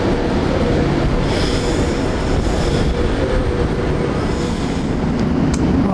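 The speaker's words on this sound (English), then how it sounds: "I say, it's a nice little joggy train." A train runs on rails at about 30 miles an hour near Bedworth station, giving a steady, loud rumble with a faint squeal here and there and no talk.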